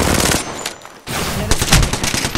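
Gunfire in a shooter video game, delivered as loud close bursts of rapid shots that cut out briefly in the middle and then resume.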